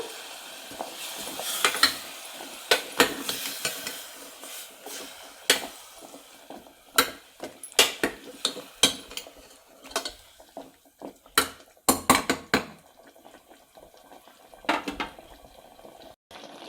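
Ground masala for jackfruit seed sambar sautéing in a pan, soft bubbling sizzle broken by sharp scraping clicks of stirring, irregular and close.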